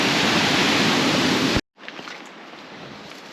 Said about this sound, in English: Waterfall. Waterfall.